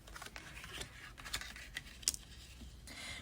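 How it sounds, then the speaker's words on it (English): Tarot cards shuffled and slid around on a table, faint close papery flicks and light taps in an irregular rhythm, with no speech. "I need to just like move these cards around."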